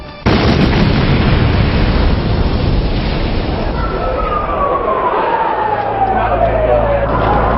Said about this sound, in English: At 18 minutes past 12, the van exploded.